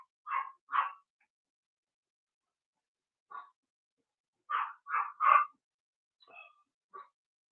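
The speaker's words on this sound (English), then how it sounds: "the dog barks at everything" A dog barks in short bursts: a pair, then a lone bark, then a quick run of three and a couple of softer yips, all fairly quiet and separated by silence.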